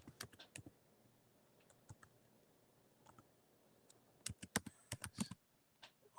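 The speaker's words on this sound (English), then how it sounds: "I'm going to type real quick" Quick typing on a computer keyboard, scattered clicks early, then a dense burst of rapid keystrokes toward the end, close and fairly quiet with no voice.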